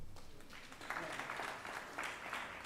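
Faint applause from an audience at an anniversary celebration for a distance education council, a soft patter of clapping that swells slightly partway through and stays distant.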